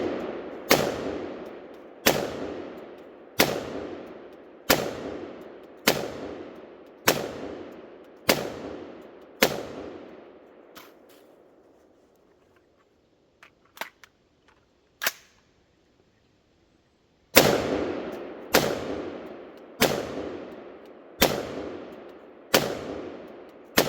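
Sharp, evenly spaced rifle shots from a Colt 6721 patrol rifle firing .223 rounds at a pumpkin outdoors. A fast string of about ten shots is followed by a pause and a few faint clicks, then another rapid burst of about six shots.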